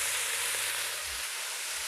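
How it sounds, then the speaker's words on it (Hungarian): Mushrooms and onion frying in a pan, a steady close hiss of sizzling oil that holds at an even level throughout, with no talking over it. "szépen le fogom pirítani az egészet"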